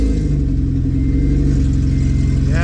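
An engine-swapped Acura RSX Type S with full bolt-ons roars loudly and steadily at close range, check engine light on, a deep throaty rumble that climbs slightly in pitch near the end.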